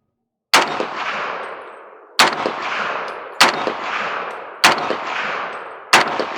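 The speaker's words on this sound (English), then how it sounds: "M1 carbine." An original M1 carbine fires five single shots at a range, each a sharp, loud crack with a ringing tail, spaced roughly a second or more apart.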